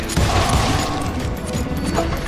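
Dense, continuous gunfire and booming blasts in the Wild West shooter Call of Juarez: Gunslinger, a steady loud barrage with sharp cracks scattered throughout and no break.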